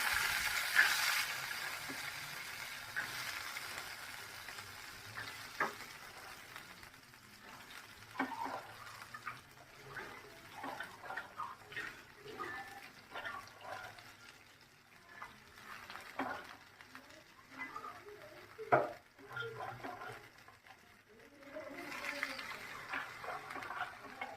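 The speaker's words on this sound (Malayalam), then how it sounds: "5 മിനിറ്റ് ഉപ്പിലിട്ട് റെസ്റ്റ് ചെയ്യാൻ വെച്ചിരുന്ന കപ്പലണ്ടി നമുക്ക് ചൂടായ കട്ടിയിലേക്ക് ഇട്ട് കൊടുക്കാം" Salted peanuts roasting in a hot heavy pan, a soft steady sizzle with scattered rustles and clicks as the nuts are stirred, fairly faint throughout.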